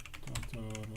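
Typing on a computer keyboard, a quick run of close key clicks lasting about a second, alongside a faint hum.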